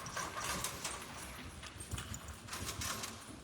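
Horse hooves clip-clop in a steady, irregular rhythm of close, crisp strikes on a hard surface, with broad scuffing noise between steps and no talk.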